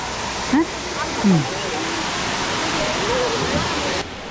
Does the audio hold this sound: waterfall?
yes